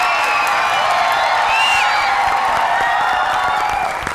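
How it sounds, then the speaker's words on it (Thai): A Thai game-show studio audience applauds and cheers in a dense, loud, continuous wash of clapping with scattered whoops, sustained from start to finish. "ขอเสียงปรบมือให้ทุกท่านด้วยครับ"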